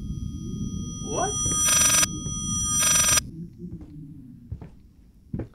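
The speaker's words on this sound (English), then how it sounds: "what is that ringing?" Phone-like ringing in the video game Layers of Fear VR: two loud, buzzing electronic ring bursts about a second apart. A person talks underneath, and quiet clicks and thumps follow.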